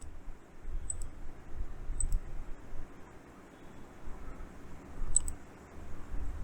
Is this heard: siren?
no